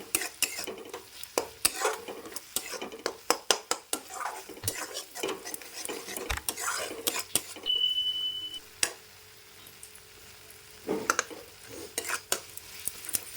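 Ginger-garlic spice masala for an egg curry stirred in a pan over a low flame: quiet, continuous scraping with frequent light metallic clinks and taps of the spoon against the pan, and a faint sizzle underneath.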